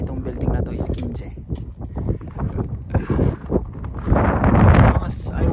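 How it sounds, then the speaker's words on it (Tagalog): Strong, cold wind on the snowy summit of Moaksan in winter, buffeting the microphone in loud, rough gusts throughout, with people talking over it. "sobrang lakas ng hangin saka malamig"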